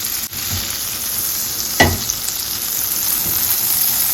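Butter and oil heat over medium-high in a pot before salmon goes in, giving a steady close sizzle. A single metallic clink sounds partway through, and no one speaks.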